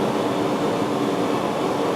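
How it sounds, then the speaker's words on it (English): A big vacuum-cleaner-style motor drives a vacuum lift raising a whole sheet of roughly 120 pounds, giving a steady, loud broadband roar that holds level throughout without a break. "this tool that he's using right now is called a vacuum lift"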